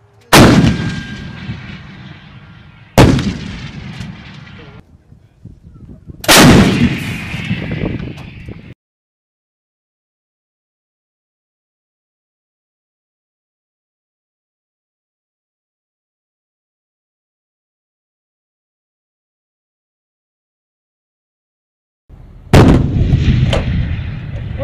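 An M777 howitzer fires three heavy booming rounds a few seconds apart, each a sharp loud blast with a rolling tail. Long silence follows, then a fourth blast.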